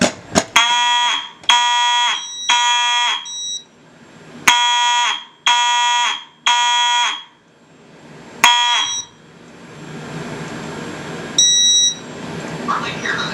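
A fire alarm system under test sounds in bursts of loud, harsh electronic horn tones with short gaps between them, then a brief higher chirping signal near the end, with faint talk underneath.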